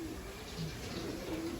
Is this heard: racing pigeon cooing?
yes